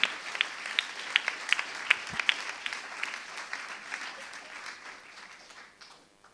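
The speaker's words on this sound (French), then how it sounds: "je pense qu'on peut les applaudir bien fort" A conference audience at a round-table discussion on food applauds steadily, a dense wash of clapping that holds for several seconds before tapering off.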